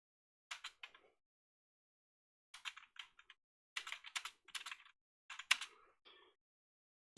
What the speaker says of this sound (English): I can hear him typing from here.